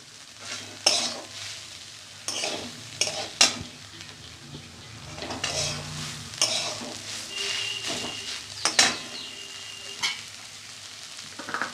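Banana stem fries in a pan with a constant sizzle while a spatula scrapes and clatters against the metal in repeated, uneven strokes, close and clear.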